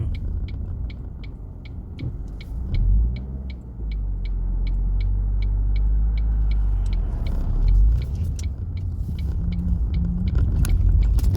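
A Mk1 Ford Focus drives along with a steady low engine and road rumble from inside the cabin, swelling briefly as it accelerates, while a faint regular ticking repeats throughout.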